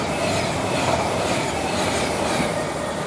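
A Pendolino passenger train running through Milton Keynes Central station from Manchester Piccadilly toward London Euston, a steady loud rumble with clattering wheels and faint squeal, no voices.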